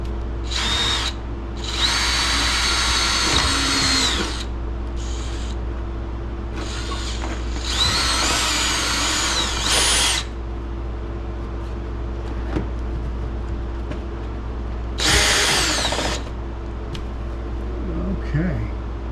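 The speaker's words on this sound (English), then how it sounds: "We're gonna drill a hole right up here, and we're going to aim for the top of the corner up here" A power drill bores a hole through drywall overhead while mounting a camera, running in several loud bursts with pauses between them, and a voice talks in the quieter gaps.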